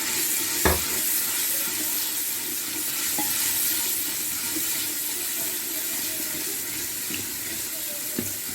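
Red chilli powder, salt and turmeric frying in a pan for chana dal, a continuous close sizzle with a few sharp scrapes and taps of a spoon, no voices.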